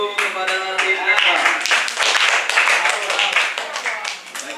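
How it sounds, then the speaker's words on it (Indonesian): Audience clapping and applause for a team at a school debate final, a dense sustained patter of many hands under a warm hall ambience, steady and fairly loud through the whole stretch. "Beri aplaus dulu kepada tim NEPA."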